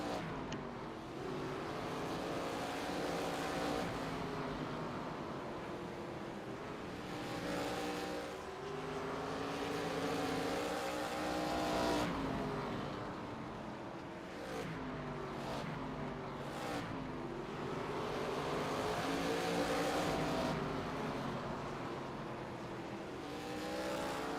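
D class ARCA race cars lap Langley track. Engines roar past again and again in rising and falling waves, with revving and the sweep of cars passing in a steady, continuous rhythm, a little distant and with no talk.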